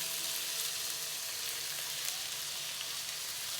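Manchurian frying in a pan with tomato and coriander, a steady, even sizzle throughout with faint crackles and no voices.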